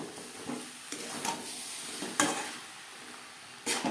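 Potatoes and peas frying in a pan over a high-to-medium flame give a steady, close sizzle, broken by several bursts of louder hissing and stirring scrapes.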